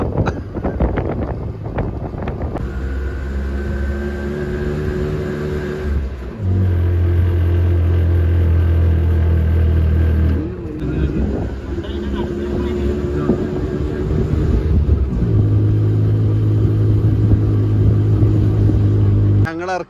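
An auto-rickshaw engine labours up a long steep hill on a jungle road in Wayanad, a steady loud drone with shifting low tones and wind buffeting, while people talk over it.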